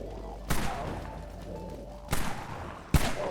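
Rifle shots in the zombie shooter Dead Frontier's southeast zone, three sharp, loud single reports spaced about a second and a half apart, with faint background game ambience.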